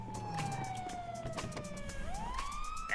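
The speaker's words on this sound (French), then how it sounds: "sirène." Police car siren in the GTA roleplay video game, a loud wailing tone that slides slowly down, then sweeps back up, over a low engine rumble with faint clicks.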